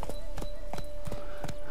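Steady horse hooves clip-clopping at a trotting rhythm in the video game The Witcher 3: Wild Hunt, close and clear, repeating evenly over a constant low hum.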